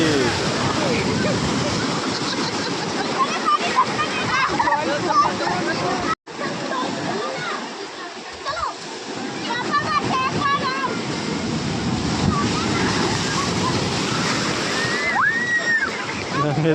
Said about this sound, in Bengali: এত পরিমাণে ঢেউ হচ্ছে